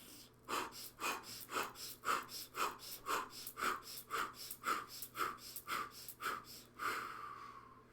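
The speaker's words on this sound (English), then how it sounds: "you're going to be breathing in through your nose and breathing out through your mouth" Breathwork sequence, in through the nose and out through the mouth: about thirteen quick, rhythmic breath pulses at close range, the last exhale drawn out longer, with no talking.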